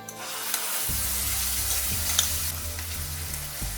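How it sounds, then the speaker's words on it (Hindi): Masala paste hits hot oil with a bay leaf in a kadai, starting a loud, continuous close-up sizzle and hiss that stays steady throughout, with light stirring and no talking. "ऑयल गर्म होने के बाद हम उसमें डालेंगे एक बे लीफ। फिर हम इसमें उस मसाले का पेस्ट डाल देंगे।"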